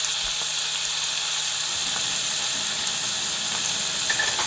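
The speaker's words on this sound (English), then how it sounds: "you hear that sizzle" Soy sauce sizzles in a hot pan with onigiri rice balls, making a continuous, moderately quiet hiss with faint crackles and no talking.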